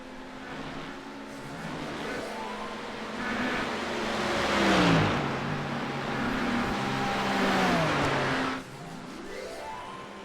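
A GT3 race car pulls away from pit road after a tire change, its engine rising loudly through several revving gear changes and then dropping away, with no voices.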